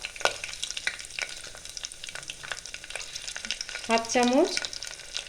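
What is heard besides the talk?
dried and green chillies and nigella seeds frying in hot oil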